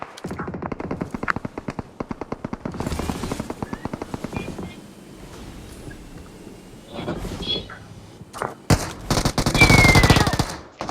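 Gunfire in a shooting video game: rapid bursts of automatic fire crackle in long runs, then pauses, then more sharp volleys and a loud blast near the end, with voices talking between.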